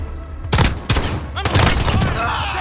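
Rapid gunfire in Call of Duty: Modern Warfare (2019) erupts in dense, loud cracks and bursts over a low rumble, a short intense exchange filling the whole moment.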